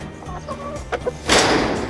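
Chickens moved in a chicken tractor onto grassy ground give short clucks, followed by a louder burst of rustling movement, near and brief, with faint background sound.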